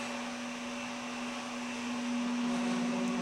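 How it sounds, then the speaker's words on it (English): A Samsung Powerbot R7040 robot vacuum running nearby, a steady whirring motor drone with a strong constant hum that swells slightly louder toward the end. "the vac will just go in a back and forth motion"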